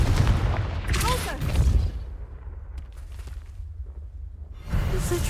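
A Confringo blasting spell goes off in Hogwarts Legacy, a loud booming burst with crackling fire and whooshing debris at the start, then a quieter stretch of rumbling ambience before another swelling blast near the end. Voices talk over it.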